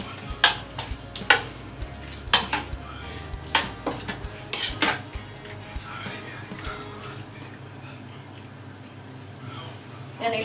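Chicken pastel filling stirred in a pan with a utensil, giving sharp metallic clinks and scrapes close by in an irregular rhythm over the first half, then a softer low simmering bed as the stirring eases.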